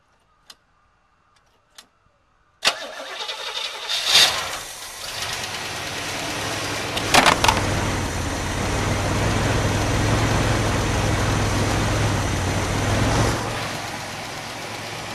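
A couple of faint clicks, then a new 403 V8 engine in a classic G-Body cranks and fires up for the first time, settling into a steady, smooth idle that carries on to the end.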